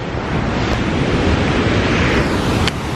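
Loud, steady roar of rushing water pouring through the Chasm in Fiordland National Park, New Zealand, a dense broadband wash with some wind buffeting the microphone, no voices.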